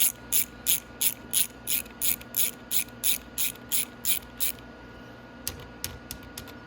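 A hand ratchet with a 10 mm socket clicks in a quick even series of about sixteen sharp strokes on a Venom X22gt 250cc motorcycle engine head, followed by a few softer scattered clicks, close and clear.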